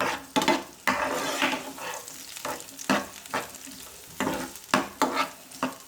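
Onions sizzle in about two tablespoons of hot oil in a pan for a chicken samosa roll, a loud, close crackle broken by repeated sharp scrapes of stirring, with no talk.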